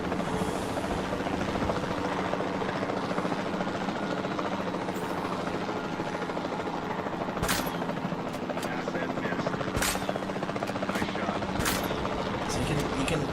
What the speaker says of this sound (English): You can just shoot it from the helicopter if you like.